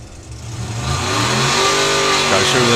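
Mark 1 hot rod launching hard off the drag strip line with heavy wheel spin, engine roaring and building steadily in pitch and loudness over the run, with a voice talking over the noise.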